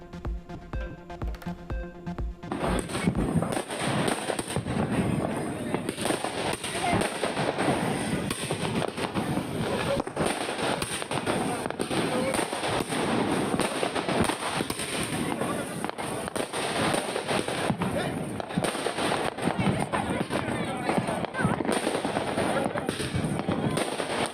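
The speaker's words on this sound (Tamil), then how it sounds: "தீபாவளியொட்டி வான வேடிக்கையால் ஜொலித்த மதுரை மாநகரம் குடும்பமாக பட்டாசுகளை வெடித்து உற்சாகமாக கொண்டாட்டம்." Diwali fireworks and firecrackers go off over Madurai city as families celebrate. After a short quiet opening, dense, crackling bursts and bangs rattle on continuously, loud and overlapping, with faint voices now and then.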